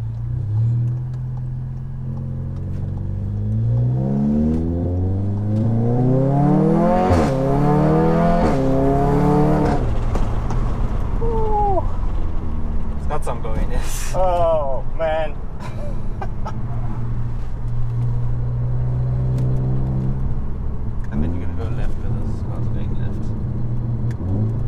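A Stage 3 tuned VW Golf 7R in manual mode revs and accelerates through the gears, its engine note climbing repeatedly with exhaust crackle and bubble between shifts, loud and close, with people talking over it.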